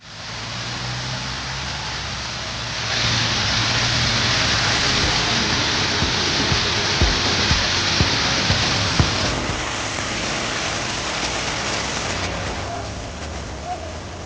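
Heavy rain falling in Thailand, a dense continuous hiss that intensifies for several seconds in the middle, with scattered louder drops and knocks and faint low rumbles of traffic underneath.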